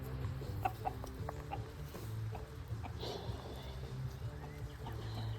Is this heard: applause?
no